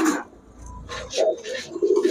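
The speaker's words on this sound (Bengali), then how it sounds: "সবগুলো দর্শক পাথর চোখের কবুতর" Stone-eyed pigeons at a Bangladeshi pigeon sale give short, soft coos in a few separate bursts, close by, with brief gaps of quiet between them.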